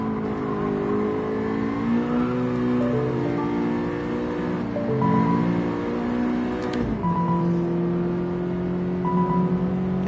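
A car engine in Gran Turismo 7 with VTEC kicking in, revving hard through the gears with rising, screaming pitch sweeps and a sharp drop at a shift, loud and continuous with no voices.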